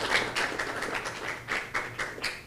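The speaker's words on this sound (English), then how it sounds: "Another round of applause for our panelists." A small audience claps for a panel at a community workshop, sparse, uneven handclaps that come and go in short bursts, fairly close and modest in volume.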